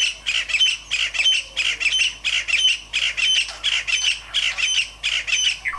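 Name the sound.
loud bird call at dawn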